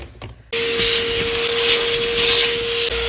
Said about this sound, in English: I figure the least I can do for Gare is vacuum the floor.